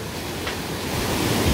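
Stream water rushes through a mossy mountain valley near a waterfall, a dense, steady roar of flowing water that swells slightly toward the end, close and loud with no voices.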